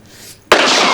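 A sudden sharp gunshot sound effect bursts out in a Marathi comedy skit, loud and close, a single crack with a noisy tail after a quiet start.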